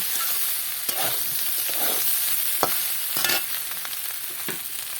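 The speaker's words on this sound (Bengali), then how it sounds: "এবার ডুমোটাকে ভালো করে কষিয়ে নিতে হবে" Chopped figs sautéing and being stirred in a pan, with a steady sizzle and intermittent sharp scrapes and clacks of a spoon over about five seconds, close and moderately loud with no voices.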